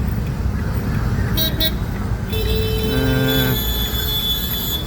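Road traffic builds around a car, with a few short horn toots early on, then a longer sustained honk and tonal vehicle sounds joining over a constant dense rumble.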